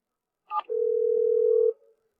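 A single steady electronic ringback tone on a phone line, about a second long, preceded by a short click, otherwise quiet.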